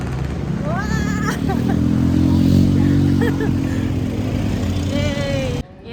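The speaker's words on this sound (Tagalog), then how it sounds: "Grabe ang ingay. Ang dami sasakyan." Busy city road traffic with many vehicles passes close by, a loud steady rumble of engines with a motorcycle-like drone building and fading, while people talk over it and it cuts off abruptly near the end.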